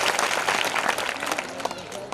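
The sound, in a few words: audience clapping to welcome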